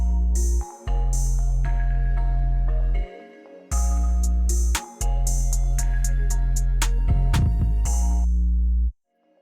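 A melodic trap beat built in FL Studio, with crisp hi-hat rolls, a snare and a booming 808 bass under a bright melodic layer. It plays loud and steady, breaks off briefly a few times, then cuts out near the end.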